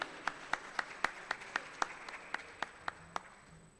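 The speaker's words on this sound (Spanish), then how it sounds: "Un aplauso para nuestro compañero internacional." Sparse, distant applause rises at a political conference panel, with a handful of distinct claps spaced at a regular rhythm over quiet room tone.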